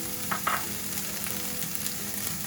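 Garlic hits a frying pan already holding red pepper and gives a soft, continuous sizzle, with a couple of brief louder crackles near the start. It stays fairly quiet throughout.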